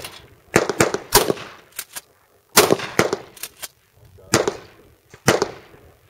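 Shotguns fire at clay targets during skeet shooting, sharp loud blasts coming in quick clusters of two or three with short ringing tails and brief quiet gaps between bursts.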